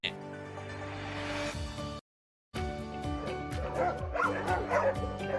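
Several dogs bark and yip close by in quick, repeated bursts, with whimpering mixed in and a short pause partway through.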